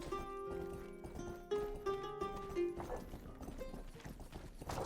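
Horse hooves clip-clopping in the video game Rustler, a quick run of close hoof knocks mixed with bright game music tones and effects.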